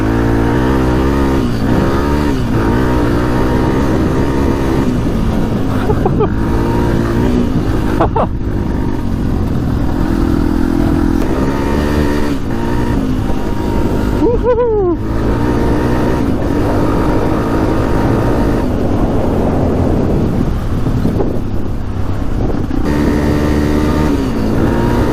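A motorcycle engine idles smoothly and steadily at close range for the whole stretch, a continuous low rumble with a few slight rises in pitch.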